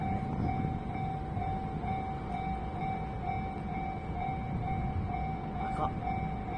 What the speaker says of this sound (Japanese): 貨物か普通電車。